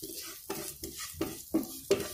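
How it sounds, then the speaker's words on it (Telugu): Asafoetida and curry leaves fry in hot tempering oil, giving a steady close sizzle broken by four or five sharp scrapes of a spoon stirring the pan. "ఇంగువ వేసుకున్న తర్వాత ఇంకా ఫైనల్గా కొద్దిగా కరివేపాకు కూడా వేద్దాము."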